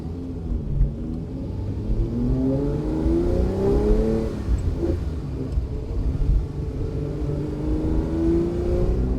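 A 1969 Ferrari 365 GTC pulls away on a drive, its engine rumbling and revving up through the gears in steady rising sweeps, close and continuous for several seconds.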